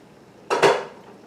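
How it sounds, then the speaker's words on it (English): A lid is lifted off a pot of boiled okra, giving a short metallic clatter and scrape of cookware, close and fairly loud, in two quick overlapping hits within an otherwise quiet moment. "So it's time to get the lid off there."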